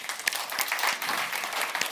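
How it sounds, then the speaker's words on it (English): A conference audience at the CogX 2022 festival stage applauds a panel, a dense, steady wash of many hands clapping throughout, fairly distant and without voices. "Give them a massive round of applause."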